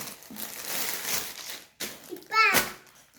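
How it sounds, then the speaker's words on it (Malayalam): A parcel holding a pocket dhoti being unboxed, with close crinkling and crumpling of packaging in short bursts, while a voice speaks partly over it. "നമ്മളതൊന്ന് അൺബോക്സ് ചെയ്യുകയാണ്."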